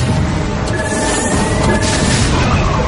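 Zealot bomb explosions in a StarCraft II match, a dense loud wash of crashing blasts and battle noise with no pauses.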